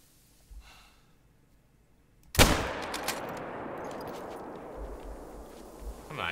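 A rifle shot in The Hunter: Call of the Wild, set in a swamp: one sharp, loud report after a quiet stretch, followed by a long decaying echo and lingering ambience.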